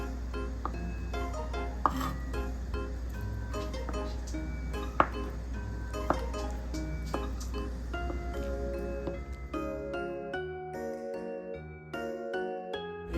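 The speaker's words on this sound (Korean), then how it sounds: "두부를 썰어 보겠습니다" A knife slices through tofu on a cutting board in a series of soft, irregular cuts with light clinks of utensils, fairly quiet and close, without talk.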